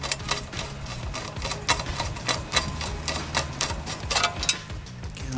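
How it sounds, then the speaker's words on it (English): Screws being driven in by a powered driver to fasten the gasket cover on a wood chipper under repair, a fast close rattling whir with regular ticking pulses, running steadily without talk. "And I have four screws here to put them on."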